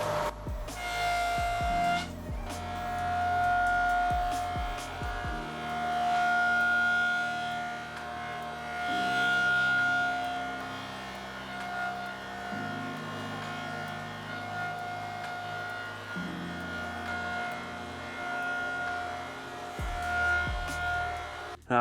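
Buffing wheel polishing a sanded plastic fender, a loud humming motor whine with a steady tonal drone that rises and shifts in pitch in repeated passes, no talk.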